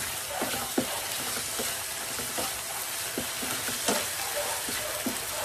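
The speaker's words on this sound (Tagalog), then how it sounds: "Then, lagay na natin itong sibuyas. Tapos ihalo na natin dyan." Chopped onion sautés with corned beef in a pan: a continuous soft sizzle with regular light taps and scrapes of a spatula stirring, close and fairly even throughout.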